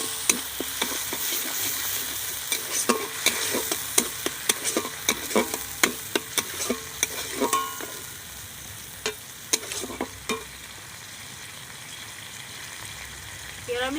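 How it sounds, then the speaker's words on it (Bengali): Curd poured into a sizzling pan of pointed gourd cooked with spices, with busy frying crackle and rapid clacks of a spoon against the pan. The sizzle softens and thins toward the end, with a few isolated taps. "এবারে ফাটিয়ে রাখা দই দিয়ে দিচ্ছি"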